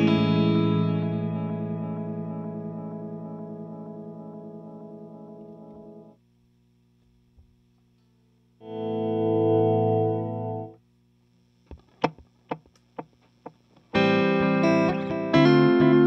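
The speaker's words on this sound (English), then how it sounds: "So this is the tape delay." Guitar notes and chords played through a Strymon Timeline tape delay effect with an expression pedal controlling repeats, with trailing echoes and repeats; a long sustained chord, a short burst, plucked picks, then a final strummed passage.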